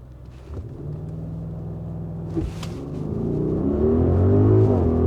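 Audi RSQ8 accelerating hard from a standstill to 100 km/h on a cold day with two people aboard, a deep engine rumble that swells steadily louder over several seconds as revs climb through the gears, with no talking.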